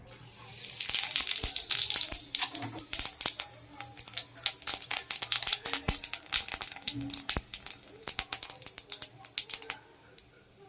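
Whole cumin seeds tempering in hot oil for a Bengali pabda fish kalia, a bright steady sizzle with crackling pops that keeps going under faint background sounds.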